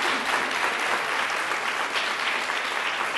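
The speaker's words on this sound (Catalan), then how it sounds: "Molt bé, 25 punts. Aplaudiment." Audience applause at a Catalan word-game show: dense, steady clapping that holds at a moderate level for the whole stretch, with no voices over it.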